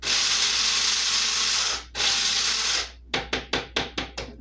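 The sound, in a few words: hand grinding until coarsely ground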